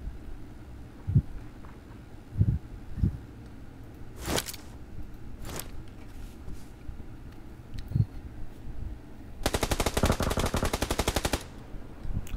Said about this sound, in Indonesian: Kau tembak lah gitu.